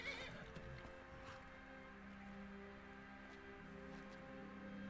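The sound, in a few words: horse neighing in the video game Skyrim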